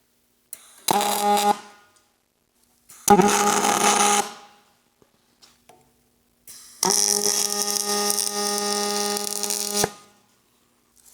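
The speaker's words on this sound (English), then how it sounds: "we're trying to get all the steel to steel welded right now" Steel brackets being welded onto a D60 axle: three separate welding runs, close and loud, each a steady buzzing drone with a harsh edge, the last and longest lasting about three seconds, with silent pauses between runs.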